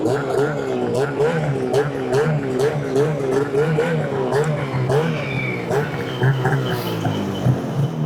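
An 858 Catalyst snowmobile fitted with an HPS exhaust can revs loudly and steadily close by in a backyard, its engine drone rising and falling in repeated pulses, with voices talking over it.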